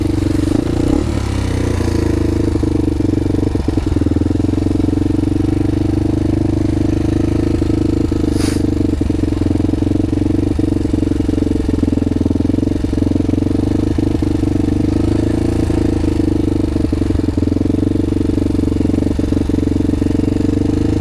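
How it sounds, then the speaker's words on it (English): A Honda 400ex ATV engine running steadily and loudly up close, with a continuous throbbing idle and light mechanical clatter throughout. "turn the key, and hit the starter, and she's ready to go"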